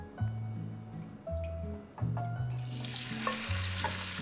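Cooking oil hitting a hot pan at 180 degrees, a bright hiss that swells in partway through and continues steadily over low background tones.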